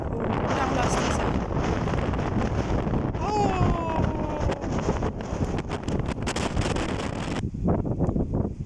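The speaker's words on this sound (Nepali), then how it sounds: "Oh God, it's so windy." Strong wind at Surprise View in the Peak District buffets the microphone with a constant loud roar and rumble, while a voice speaks briefly over it.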